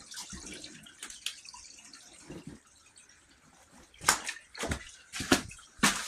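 Spring water flowing out of a wooded mountainside trickles and splashes in faint, irregular gurgling bursts that grow busier toward the end, with no one talking.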